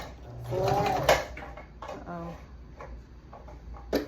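Sewing machine running in short bursts as it stitches a wig track onto a flat closure wig, alternating back and forward stitches, with a voice talking over the mechanical whirring.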